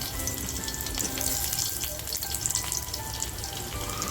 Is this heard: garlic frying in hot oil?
yes